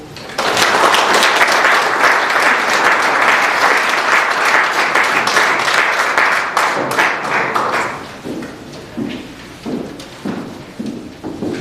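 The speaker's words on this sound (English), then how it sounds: "another round of applause" An audience at a college athletic hall of fame induction claps in a dense, loud burst of applause that thins into scattered individual claps toward the end.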